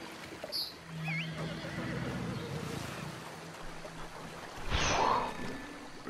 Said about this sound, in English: My horse is following me.